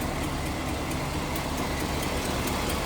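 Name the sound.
1947 Ford Deluxe engine idling, slight exhaust leak tick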